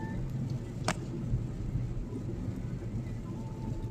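Rain falls in a soft continuous patter with a low rumble underneath, plus one brief sharp crackle early on.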